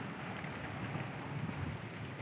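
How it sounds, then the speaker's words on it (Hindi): Hail pelting down over standing wheat fields in a village during a heavy storm, a steady dense hiss of impacts that stays loud and unbroken throughout with no voices. "ओले पड़ रहे हैं,"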